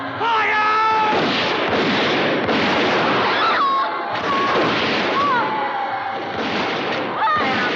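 Dense, continuous bursts of gunfire and booming shots mixed with shouting voices, loud and chaotic throughout.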